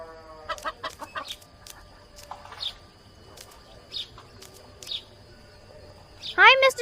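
Chickens in the video game I Am Cat: scattered short clucks and chirpy fowl calls come in irregular bursts over a quiet background, ending with a louder rising squawk near the end; a voice talks in between.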